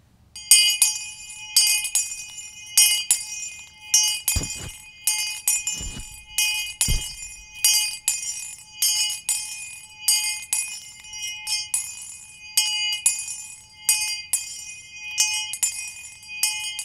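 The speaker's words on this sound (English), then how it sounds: "using his bell, ring you in to the good company of Wabash men" Hand bell of Caleb Mills, first professor of Wabash College, rung steadily at a college ringing-in ceremony, bright metallic strokes repeating in a quick even rhythm throughout, loud and close, with a few soft low thumps in between.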